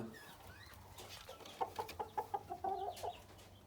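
A Kochin bantam rooster, a blue bird in a backyard flock, clucks in a quick run of short rhythmic notes, faint and at a distance over a low background hum.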